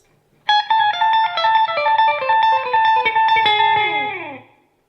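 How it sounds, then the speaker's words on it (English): Electric guitar through an analog delay pedal set for a tight slapback echo, playing a ringing chord-based phrase with each note closely doubled by a short repeat, loud and clean, ending in a decaying sustain. "that is an analog delay on a tight slapback echo"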